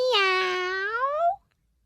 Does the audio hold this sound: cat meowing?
yes